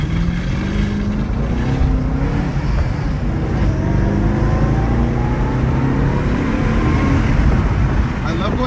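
A Roush Mustang accelerates hard uphill with a loud, continuous engine drone and road roar that builds steadily. Voices can be heard over the engine.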